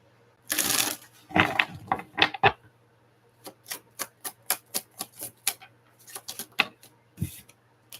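A tarot deck is shuffled by hand in two quick riffling bursts, followed by a string of light, evenly spaced card taps and clicks, close and clear in a quiet room.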